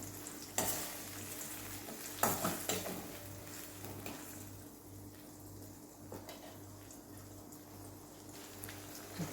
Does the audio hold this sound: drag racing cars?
no